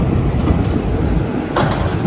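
A train rolls into Haridwar railway station, a steady low rumble of wheels and carriage noise filling the space, with a brief brighter clatter near the end; no one speaks.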